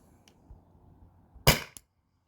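Single sharp shot from a less-lethal launcher, such as a Byrna, fired over a chronograph, a loud close crack with a short click after it, and faint handling noise before.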